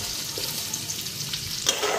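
Onion dropped into hot oil and frying, a dense, loud sizzle with light stirring clatter and a brief sharper hiss near the end.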